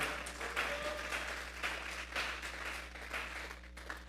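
A church congregation claps together in steady, continuous applause that stays fairly even in level and is heard from a distance in a reverberant room.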